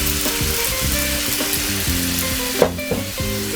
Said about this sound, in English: I'm going to go ahead and put some wine.